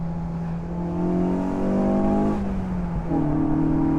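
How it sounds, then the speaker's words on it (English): A 1994 Mazda Miata's engine revs sharply on a downshift, with a rising then falling note, a brief dip, and a second blip that settles into a steady hum, heard alone with no talk. "And sometimes you downshift just for the sound."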